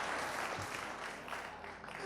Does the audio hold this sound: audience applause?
yes